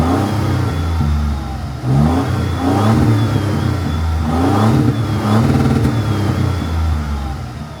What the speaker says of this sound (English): Let's hear that exhaust a little bit.